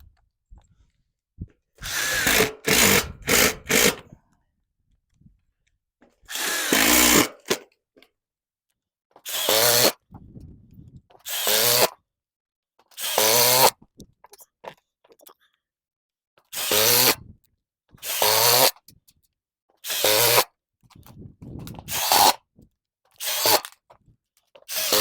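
A Ridgid impact driver drives screws into drywall in repeated loud bursts, each a second or two long with short pauses between, the hammering whir close and alone with no talk.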